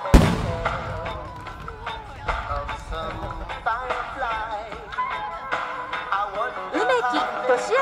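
A message fireworks display at Tsuruga sends repeated sharp bursts and crackles across the night, with a voice talking over the bangs throughout.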